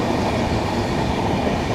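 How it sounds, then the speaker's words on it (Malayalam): Kerala Express train rolling toward Warangal station, a loud, dense, unbroken rumble of wheels and carriages heard from inside, with no voices. "അപ്പോൾ നമ്മുടെ ട്രെയിൻ അങ്ങനെ വരങ്കൽ സ്റ്റേഷനിലേക്ക് കയറാൻ പോവാണ്"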